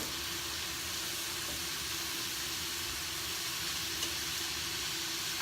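Crushed tomatoes going into sizzling vegetables in a stew pot, a steady, even frying hiss that stays continuous and fairly close for the whole stretch.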